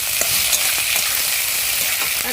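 Vegetables sizzle loudly and steadily in a hot pan with a little sugar added, with scraping stirs breaking through the constant frying hiss, close up and without talk.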